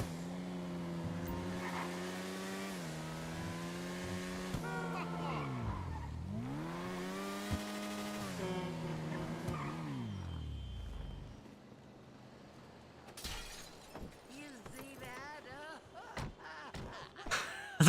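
A stolen police car driven in the video game Payday 2 gives loud engine revs that climb and fall with tire squeals, then drops to quieter clatters and thuds.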